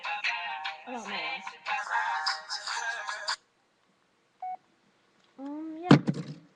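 Electronic phone keypad tones burst out in a run of beeps, then silence, a lone short tone, and a final clattering knock as the phone lands on a computer keyboard.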